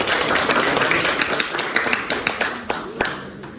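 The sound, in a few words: audience applause for a presenting group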